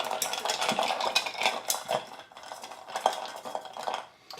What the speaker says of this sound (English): And we're gonna stir it up.